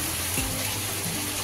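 Spices sautéing in a pan while a vegetarian dish cooks, a steady soft sizzle and frying hiss with a faint stir or scrape, alone and fairly quiet throughout.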